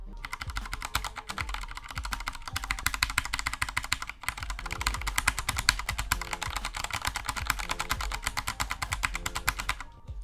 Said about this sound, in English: I like the sound that I got from the key press of this keyboard